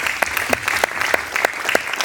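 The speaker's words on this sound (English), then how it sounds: "Yeah, please applaud." Audience applause at a speaking event at a recording arts conservatory, a steady dense patter of many hands clapping for about two seconds, fairly close and loud.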